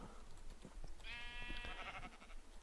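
Sheep in the Minecraft video game gives a single wavering bleat, quiet and close, over faint background game sounds.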